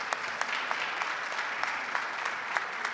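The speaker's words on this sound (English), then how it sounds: "So please thank him and give him a round of applause, Congressman Garamendi." Sustained audience applause for a congressman at a Sikh community honors event, steady dense clapping from a crowd throughout with a few sharper claps standing out.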